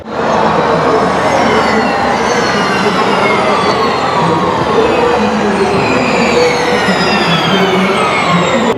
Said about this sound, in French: Les voitures s'élancent juste derrière moi et on va les voir passer ici pour le tout premier tour.